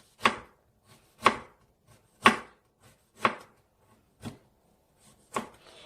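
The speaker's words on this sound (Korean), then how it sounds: "이거 아주 얇게 이렇게 채를 쳐주세요" A knife cuts thin julienne strips of burdock root on a cutting board. Six crisp, evenly spaced chops land about once a second against a quiet background.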